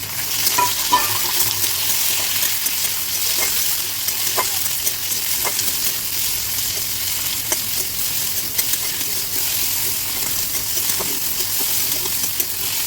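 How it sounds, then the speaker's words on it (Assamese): Tomatoes tossed into a pan with onions fry with a steady broadband sizzle, punctuated by occasional clicks of stirring, close and continuous with no talking. "বিলাহীখিনি অলপ ভাজি ল'ম, বেছি নহয়, অলপ ভাজিম"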